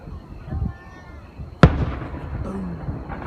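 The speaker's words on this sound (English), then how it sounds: "I don't know why I like these kind of fireworks" A single sharp Fourth of July firework bang bursts loudly partway through and decays into a lingering crackly tail, with softer voices around it and a quieter stretch before.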